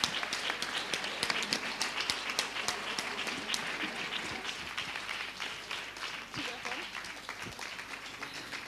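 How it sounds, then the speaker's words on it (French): Audience applause at the close of a French-language lecture on learning and cultural competence, steady broadband clapping from a crowd lasting the whole stretch, with a voice faintly audible underneath. "peut-être aussi vos applaudissements"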